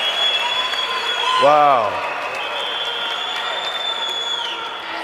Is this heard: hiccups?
no